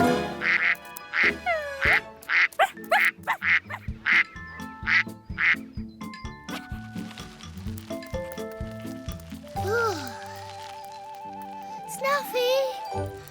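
Cartoon ducks quack repeatedly in a bouncy series of short, bright calls, mixed with playful jingling and squishy effects, followed by a burst of cartoonish tones.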